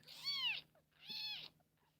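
Two raspy, hoarse kitten meows in a row, close and fairly quiet, each about half a second long with a short pause between.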